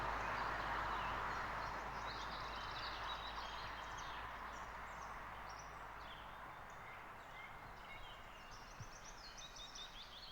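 Small birds sing among the pines on the Curonian Spit, with faint, scattered high chirps and short trills over a low steady outdoor rumble, distant and quiet.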